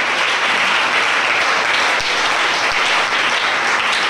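A church congregation applauds during a worship service, a dense, steady wash of many hands clapping that carries evenly through the whole stretch with no speech.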